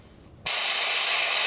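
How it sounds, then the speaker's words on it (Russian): Spot sandblaster loaded with quartz sand bursts on with a sudden loud, steady hiss of air and grit, continuous and close after a brief quiet moment. "пескоструй точечный"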